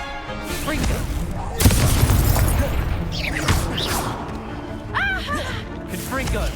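A Confringo fire spell blast in Hogwarts Legacy, a booming explosive burst landing mid-clip over a dense bed of combat noise and game music. Further impact hits and magical crackles follow, and voices are heard in the clip.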